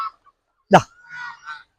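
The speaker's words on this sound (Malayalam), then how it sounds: "ഇത് രണ്ടുമാണ് നമ്മുടെ വലിയ ടർക്കികള്" Large turkeys on a farm give one sharp honking call followed by two shorter, softer calls, close by and otherwise quiet.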